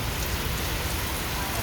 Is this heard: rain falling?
yes